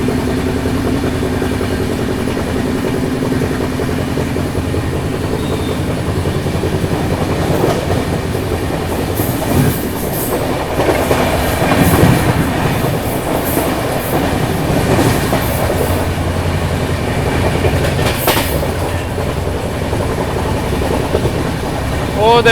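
The Amritsar Swarna Shatabdi Express passes at a crossing, a loud continuous rumble of wheels and carriages heard close up from aboard a train, with faint voices now and then.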